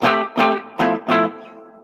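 Four chunky distorted electric guitar chords on the bridge humbucker pickup strike in a quick even rhythm, the last one left ringing and fading out.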